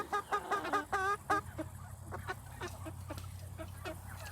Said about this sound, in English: But the 4-H chickens are doing great.